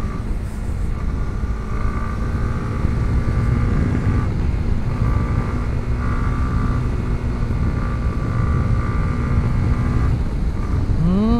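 A Honda CB150X motorcycle engine hums steadily on a mountain test ride, a loud continuous drone with wind rush, brief shifts in pitch and a rising whine near the end, with no voice over it.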